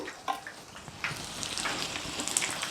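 Mirchi bajji, batter-coated green chillies given a second coating, frying in hot oil with a steady, close crackling sizzle and scattered bright pops, getting busier toward the end.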